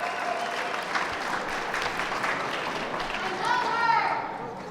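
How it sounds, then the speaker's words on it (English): Crowd applause at an end-of-summer youth celebration in Chicago, moderate clapping throughout with children's voices and chatter rising over it near the end. "if everyone would please join me in a round of applause"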